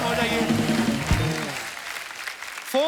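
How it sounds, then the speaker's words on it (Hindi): A studio audience on The Kapil Sharma Show, a Hindi comedy talk show, breaks into applause as tonal music and voices fade, leaving a broad wash of clapping before a short tone cuts in at the end. "फोन भूत की स्टार कास्ट के लिए एक बार जोरदार तालियां हो जाएं।"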